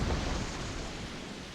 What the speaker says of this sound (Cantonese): 大爆炸！